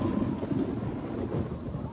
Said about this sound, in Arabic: لا تخف، فهذا صوت الرعد يا وسيم.